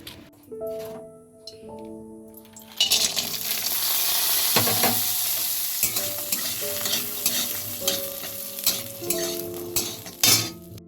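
Jackfruit seeds cook in a pot, with a steady loud sizzle of frying under repeated scraping stirs of a metal spoon against the pan, plus occasional clinks of utensils and no talking.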